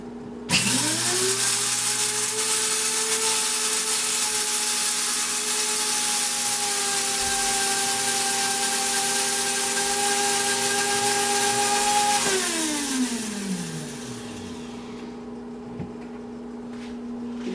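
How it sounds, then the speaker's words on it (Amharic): An electric juice blender grinds spices for Ethiopian kochkocha with a loud, steady motor whine that holds for about twelve seconds, then winds down and stops. "እንፈጫዋለን።"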